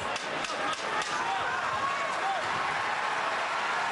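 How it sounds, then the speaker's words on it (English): Arena crowd at a UFC fight in Boston, a steady dense roar of cheering and applause that holds loud and unbroken throughout with no talk over it. "So the crowd responding here down the stretch."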